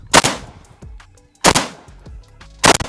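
Three loud, sharp rifle shots from a Zastava M90 5.56 AK fitted with a muzzle brake, spaced roughly a second or more apart, each with a brief ringing tail and no voices.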